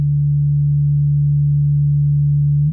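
A steady, loud synthesizer sine tone from a Moog Subharmonicon emulation in VCV Rack, with a faint octave harmonic above it, held evenly for about three seconds with no other sound.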